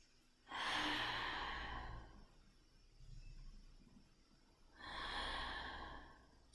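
Deep, slow breaths during a seated posture exercise, two long airy exhales with a softer inhale between them, close and without talk.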